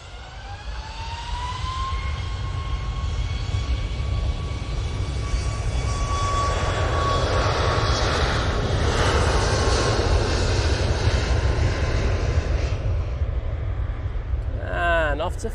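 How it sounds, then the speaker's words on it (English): A Ryanair Boeing 737 MAX 8 leaves Manchester Airport for Faro, its jet engines rising from a whine into a loud sustained roar that swells and then fades, with a voice briefly audible at the end. "we have this Ryanair departing now"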